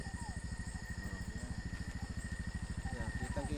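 A small motor engine runs at night during a power outage, chugging in a steady, fast low pulse throughout. It sounds fairly faint, with occasional soft voices in the background.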